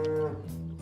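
A beef cow on a small 100-acre working farm gives a single short, close moo, trailing off into quiet.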